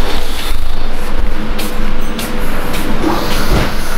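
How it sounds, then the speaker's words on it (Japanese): Interior of a JR 313 series local train on the Tokaido Line at Maibara station, a loud, steady low rumble with mechanical clunks and whooshing, like a carriage idling or moving off. "313系、普通大垣行き、この米原駅を、ね、発着する、東海道線、上り大垣方面の最終電車となります。"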